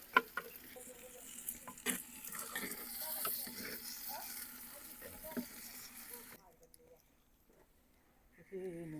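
Food being stirred in a hot pan with ghee and spices, soft sizzling and scraping strokes, a few sharp utensil clicks, fading quieter near the end before a brief rise of activity.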